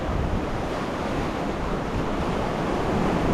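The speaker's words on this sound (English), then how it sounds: "Big launch there. Big waves." Big ocean waves crashing around a boat, a continuous loud broadband roar of surf mixed with wind buffeting the microphone, steady from start to finish.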